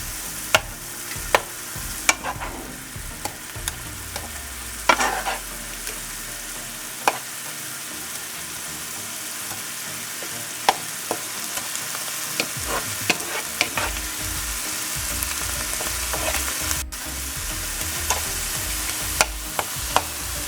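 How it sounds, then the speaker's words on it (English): Garlic and onion fry in a pan for Filipino beef empanadas, a steady nearby sizzle broken by frequent sharp scrapes and taps of a utensil stirring. "now I'm going to add my garlic. And I'm going to stir that around."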